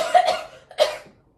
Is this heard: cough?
yes